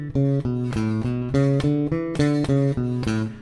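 Bass guitar playing an even run of separated eighth notes in detaché style, each note cleanly articulated and sustained until the next, in a steady rhythm with no voices.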